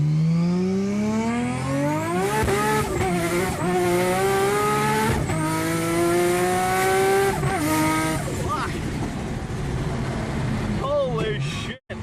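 Nissan GT-R accelerating hard, heard from the passenger seat: a loud engine roar climbing through several gears with sharp shift breaks, then easing off near the end.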